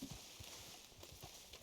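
Horse hooves in the Red Dead video game clip-clop in a quick, steady rhythm, moderately close, over a continuous outdoor ambience with no speech.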